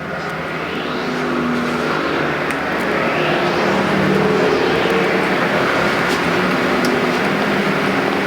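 Factory stock race cars on the final lap at Perris Auto Speedway, a loud sustained engine roar that swells as the pack passes nearby, with no talk.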